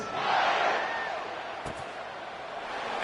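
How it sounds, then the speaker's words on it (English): Stadium crowd in a college football video game, Texas playing Kentucky: a broad, loud roar of cheering that swells early, eases, then rises again at the end, with a brief thud partway through. "this crowd is buzzing after that last score"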